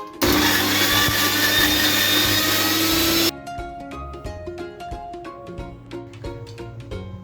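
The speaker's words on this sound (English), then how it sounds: "Begin by grinding the green chilies, coriander, ginger and garlic into a fine paste." An electric blender whirs loud and steady for about three seconds, grinding green chilies, coriander, ginger and garlic into paste, then cuts off, leaving softer clattering taps and knocks.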